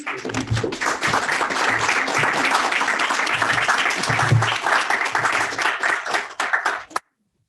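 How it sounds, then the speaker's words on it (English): A poetry reading audience gives sustained, dense applause for about seven seconds, many hands clapping steadily and close before it cuts off abruptly. "Let's give another round of applause"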